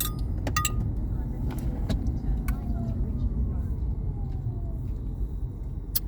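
Steady low road rumble from the interior of a moving car, constant and close throughout, with a few light clicks and rattles on top.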